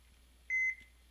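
A single short electronic beep, a clean steady tone lasting about a quarter second, rings out alone against a quiet background.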